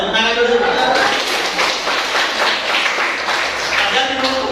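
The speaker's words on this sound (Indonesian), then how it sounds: "Oh tepuk tangan dulu." Children clapping together in a classroom, a dense burst of many small hands with a voice speaking over the start and end of it.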